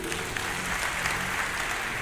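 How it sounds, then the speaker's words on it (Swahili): A church congregation applauds together after a prayer, a steady, dense wash of clapping that holds loud and unbroken throughout. "Kanisa tuwapigie makofi"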